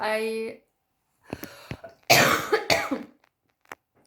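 A burst of harsh, close coughing after a brief stretch of voice, several loud hacking coughs in a row, then a short final cough after a pause.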